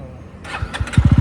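A motorcycle engine is started near Nada Sahib Gurudwara in Panchkula: a short starter whirr, then the engine catches into quick, loud low putters, close by.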